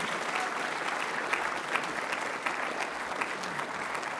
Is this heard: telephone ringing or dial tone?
no